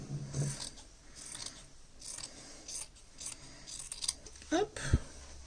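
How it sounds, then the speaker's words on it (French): Fabric or thread being snipped with dedicated sewing scissors while making a pencil pouch, a few quiet crisp cuts scattered through the clip with faint speech and handling noise around them. "ces ciseaux-là, ils ne sont utilisés que pour couper du tissu ou du fil"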